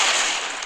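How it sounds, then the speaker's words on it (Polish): A short, loud, noisy burst like a cartoonish explosion from an exploding black bird in Angry Birds, broadband and sustained briefly before tapering off. "To są czarne, które wybuchają po zetknięciu się z jakąś rzeczą."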